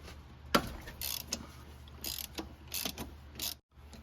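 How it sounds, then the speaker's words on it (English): Ratchet with a 13mm socket on a long extension removing the starter power wire on a Chevy truck: several short, faint clicking bursts spaced irregularly, with quiet gaps, no talk. "here's a 13mm socket on the end of a long extension to remove our power wire"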